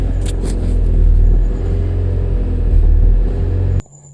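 A Honda CRX engine catches and runs with a low, steady rumble, idling loud and close with slight surges in revs before it cuts off abruptly near the end.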